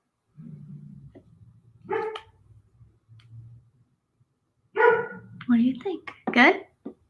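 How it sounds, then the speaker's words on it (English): A golden doodle barks several times from the background, a couple of short woofs early on and a quick cluster of sharper barks near the end, moderately loud in a quiet room with no talking. "Skipper's barking in the background. It's my dog. He's a golden doodle."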